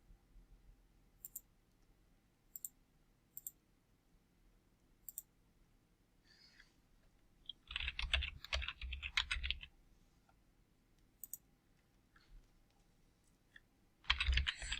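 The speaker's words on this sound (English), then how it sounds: "So I will be typing for a while," Short bursts of clicky keyboard typing separated by quiet pauses, with a longer, denser run of keystrokes in the middle and another burst at the end.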